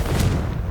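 A single short, deep boom bursts out from a Confringo spell blast in Hogwarts Legacy, loud and close, decaying quickly with no voices.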